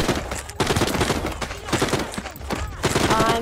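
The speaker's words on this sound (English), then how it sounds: "I'm getting shot at." Rapid bursts of gunfire in The Walking Dead: Saints and Sinners, a VR zombie game, crackling in dense overlapping volleys close by, with short pauses between bursts and no talk.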